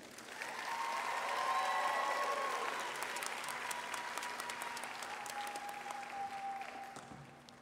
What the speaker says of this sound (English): Audience, please give them a round of applause.